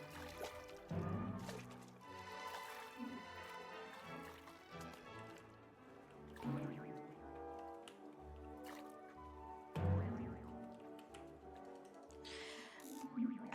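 Bubbles in the video game What Remains of Edith Finch, wet bubbling, dripping and squishy liquid sounds blended with soft tonal game music, rising and falling at moderate level with no talking.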